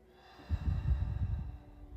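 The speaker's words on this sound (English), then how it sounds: "Take a deep breath in and out." One person takes a slow, deep breath in and lets it out, a soft close-up rush of air that swells and fades with no talking.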